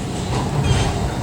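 A train rumbles steadily close by, a dense low roar with faint rail rattle running the whole time and no voices.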